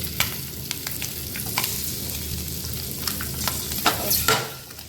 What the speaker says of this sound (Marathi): आता आपलं एका साईडने भाजून झालं थोडंसं खालच्या साईडने पण